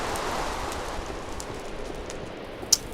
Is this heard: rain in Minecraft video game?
yes